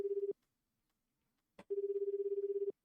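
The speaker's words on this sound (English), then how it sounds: "The phone rang several times." Telephone ringing tone on the line, a short burst of pulsing electronic tone, over a second of silence, then another longer ring, clean with no voices.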